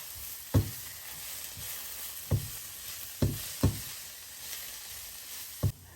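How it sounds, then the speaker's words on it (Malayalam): Coriander powder and another spice fry in a pan for chicken noodles, giving a soft, continuous sizzle with a few sharp knocks of stirring against the pan, close and quiet. "ഈ 2 മസാലകളും ചെറുതായിട്ടൊന്ന് മൂപ്പിച്ചതിന് ശേഷം നമുക്ക് മിക്സ് ചെയ്യാൻ നല്ലോണം"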